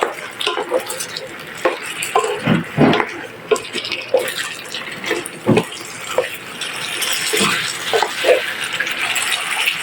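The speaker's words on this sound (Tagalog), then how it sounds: "Lagyan natin ng water." Water is poured into a pot of chicken simmering in tomato sauce for chicken puchero. Close sloshing and sizzling mix with uneven scraping stirs and a few pan knocks, with no voices.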